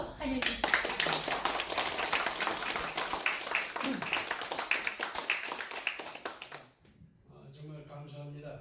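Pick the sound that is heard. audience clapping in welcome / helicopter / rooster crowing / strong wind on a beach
audience clapping in welcome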